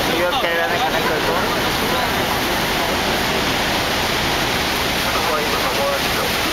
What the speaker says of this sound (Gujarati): ધોધમાં અમે બોટમાં બેસીને અંદર જઈ રહ્યા